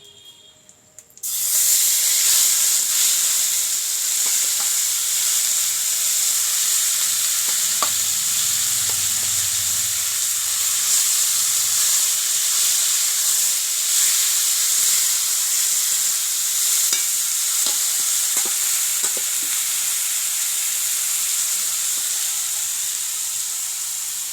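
Chicken pieces go into a hot pan and set off a loud, steady sizzle and fry that carries on without a break, with a faint stirring scrape partway through.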